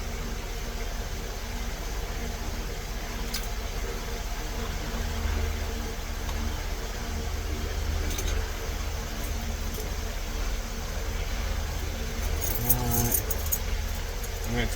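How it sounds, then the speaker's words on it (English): Metal keys are handled and slipped off a ring while a house lock is rekeyed after a foreclosure. A brief, faint jingle and clicks come near the end over a steady background hum and hiss. "I'm going to take our 2 keys we used off just for the numbers."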